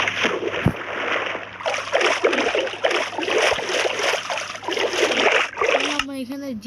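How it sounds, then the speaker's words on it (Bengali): A chest boat paddles through water in Minecraft, with repeated rhythmic splashes and sloshing strokes that stay close and steady, ending with a brief game sound. "চলো এখান থেকে আমরা নৌকা দিয়ে ওই জায়গায় চলে যাই"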